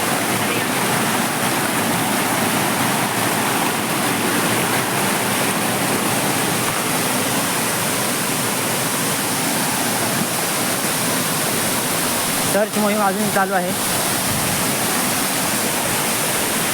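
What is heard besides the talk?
waterfall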